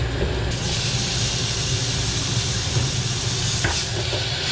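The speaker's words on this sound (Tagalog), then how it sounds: "Ginger garlic. Fry lang natin." Ginger, garlic, turmeric and cumin fry in a hot pan, giving a loud, steady sizzling hiss that runs unbroken from start to finish, with a short clatter near the end.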